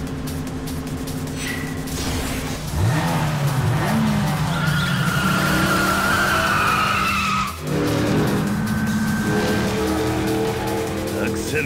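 A car in the Yakuza 5 video game roars under constant engine drone, with long tire squeals and skids rising and falling. A brief dip comes midway before the engine surges again, with voices heard over it.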